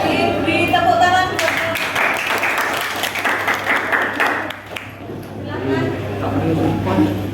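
Classroom audience at a teacher certification performance test in Indonesia breaks into a burst of hand clapping that swells and fades over several seconds, with people talking over it before and after.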